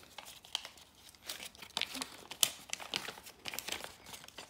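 A crinkly plastic toy package is torn open and handled, giving soft, irregular crackling and crumpling bursts up close, with no voices.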